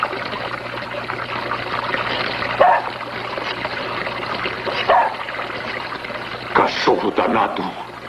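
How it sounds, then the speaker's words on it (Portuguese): A dog in a 1972 dubbed feature film barks in three or four sharp, separate outbursts over a steady indoor background hum, at moderate distance. "Cachorro danado."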